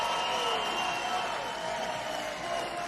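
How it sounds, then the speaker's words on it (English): A large crowd at a Trump speech cheering in a dense, continuous roar heard from a distance, steady and uniform throughout without individual voices standing out. "Largest crowd, largest cheer of the night, I bet."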